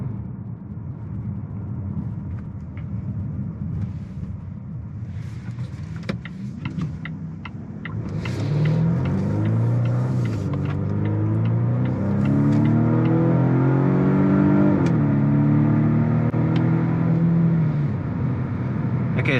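A 2025 Volvo V60 Cross Country B5 AWD accelerates at full throttle, a low steady idle hum swelling into a loud rising engine drone with climbing gear-like tones, heard from inside the cabin without talk.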